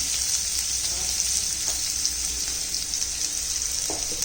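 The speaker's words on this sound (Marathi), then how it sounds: "कांदा चांगला परतून घ्यायचा आहे" Onion sautés with ginger and garlic in a pan for a potato rasa bhaji, a steady close sizzle with soft stirring scrapes and a brief clink near the end, no voices over it.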